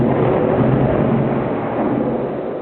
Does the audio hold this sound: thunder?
yes